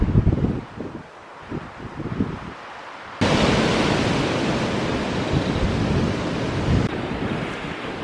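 Strong wind gusts and rumbles against the microphone, quieter at first, then surging into a continuous heavy roar.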